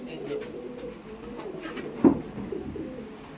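Pakistani-breed pigeons coo softly at close range amid low background murmur and faint voices, with one sharper, louder note standing out midway.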